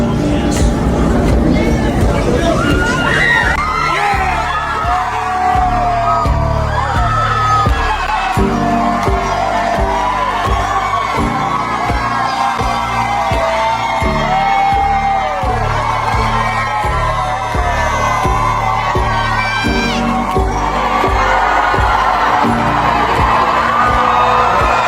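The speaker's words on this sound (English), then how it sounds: "you hear people cheering outside the courthouse" A crowd outside and inside a courthouse cheers and whoops at a not guilty verdict in a murder trial, a loud, dense roar of shouts and babble that carries on throughout.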